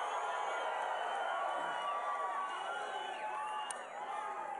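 A large rally crowd at a Las Vegas political speech roars and cheers steadily, a dense, sustained wash of many voices heard from a distance with a few whistles, holding at an even level throughout.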